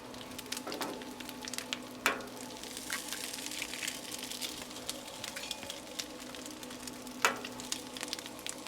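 An egg sizzles on a Blackstone griddle alongside chorizo, a steady frying hiss with a few sharp spatula taps against the flat top.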